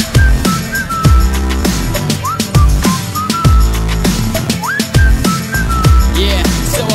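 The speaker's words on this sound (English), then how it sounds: "so I whistled at her." Bright melodic whistling runs through a chill trap song, with short rising and falling phrases over steady beats and deep bass, loud and upfront.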